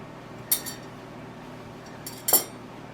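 Pieces of metal cutlery are set onto a table setting in two brief clusters of light clinks, one early and one near the end, close and fairly soft with a quiet room between.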